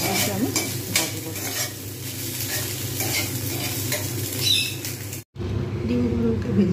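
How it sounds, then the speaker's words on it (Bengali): Eggs fry and sizzle in a pan while a spatula stirs and scrapes steadily, a close and constant crackle that cuts out abruptly near the end before resuming. "ভাজতে থাকবো, সুন্দর করে এগুলো ভেজে নেবো।"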